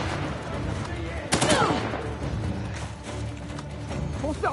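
Gunfire in the video game Uncharted: The Lost Legacy, a dense burst of shots at mid-distance with a sharp volley partway through, mixed with game ambience and voices talking over it.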